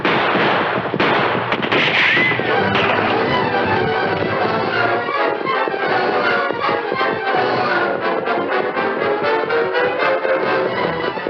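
Gunfire in a 1942 radio western shootout, a dense run of repeated shots and cracks layered with music and commotion, loud and continuous throughout.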